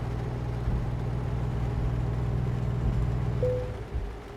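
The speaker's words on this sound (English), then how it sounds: "My engine is continuing to sputter in and out" A truck engine idles with a low, steady hum for a few seconds before it sputters and fades out near the end. No one speaks.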